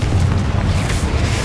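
The Confringo spell explodes in the video game Hogwarts Legacy with a loud, dense, rumbling boom that fills the whole moment with heavy low-end roar.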